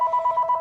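Telephone ringing indoors, a brief electronic warble pulsing in rapid, even bursts, loud and close with no talk over it.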